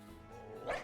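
Mabosstiff, a dog Pokémon in Pokémon Scarlet, gives its cry: a brief low rumble that rises into a short, bright bark-like yelp at the end, under a second long.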